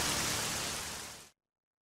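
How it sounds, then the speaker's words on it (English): Heavy rain from the video game Heavy Rain, a steady dense hiss of downpour that fills the clip loudly, then cuts off abruptly near the end. "This rain is heavy."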